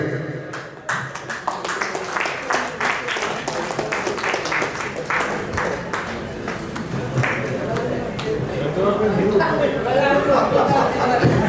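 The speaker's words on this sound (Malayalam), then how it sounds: "ഹാൻഡ് റൈറ്റിംഗ് തിരിച്ചറിഞ്ഞ അനീസിനൊരു കൈയടി" Audience applause at a stage prize presentation, a crowd clapping in a dense patter that builds slightly toward the end, with background chatter and voices mixed in.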